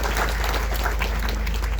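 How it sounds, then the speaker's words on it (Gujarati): A crowd at a religious bhajan gathering applauds to honour the saints present, a dense and steady wash of clapping heard close throughout a brief stretch. "તમામ સંતોને તાળીઓથી આપણે બહુમાન કરીએ"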